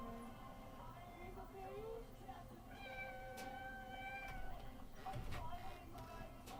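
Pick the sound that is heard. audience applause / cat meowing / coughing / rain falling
cat meowing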